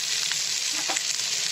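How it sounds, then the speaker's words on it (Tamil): Steady sizzle of bell pepper frying in hot oil, a continuous crackling hiss with a brief stir partway through. "எண்ணெயில் நல்லா ஃப்ரை ஆகட்டும்."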